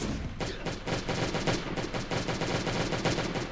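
Rapid, dense gunfire in the Last Day on Earth: Survival game sounds as a fast stream of loud, overlapping shots, continuous and close, with no talk.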